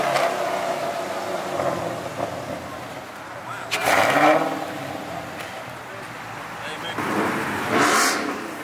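A car engine revs at a Chicago meetup of Dodge Hellcats and Scat Packs, with two loud throttle bursts rising over a steady idle rumble, one midway and one near the end, while voices murmur around it.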